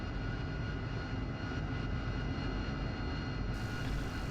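A steady aircraft engine drone from a flight-sim combat game with a Harrier available, a continuous broadband roar held at an even level throughout with no talking.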